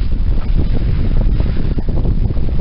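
Strong wind buffets the microphone in a constant low roar on a sailboat at sea near Grenada, with a faint watery rush beneath it and no voices.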